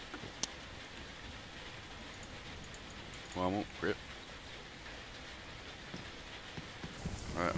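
Rain in the video game DayZ falls as a steady, soft hiss throughout, with someone speaking briefly over it.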